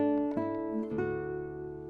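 Classical guitar sounding the opening melody of Torroba's Torija: a few plucked notes in quick succession, then a sustained ringing chord that slowly decays, close and clear with no talking.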